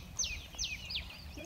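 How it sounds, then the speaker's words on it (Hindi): Small birds in a village field near Patan, Gujarat give three quick descending chirps, clear and fairly close, over a low rumbling background. "चिड़िया की साउंड्स ना"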